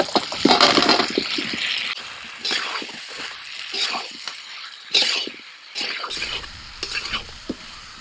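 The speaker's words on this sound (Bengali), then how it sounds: "মশলাটা তেল ছাড়া ছাড়া হয়ে গেছে আবার ভাজা আলুগুলো দিয়ে দিচ্ছি" Fried potatoes sizzle as they are stirred into a spice paste in hot oil, with bursts of scraping and clattering from the spoon against the pan, close and loud, coming in irregular strokes.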